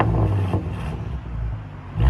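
Ford Mustang 3.7L V6 with true dual straight-pipe exhaust and an X-pipe, a short, deep, loud rev that swells, drops back, and surges again at the end, heard from nearby with no voices.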